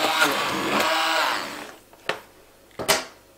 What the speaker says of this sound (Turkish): 10. kez şöyle mikserle karıştıracağım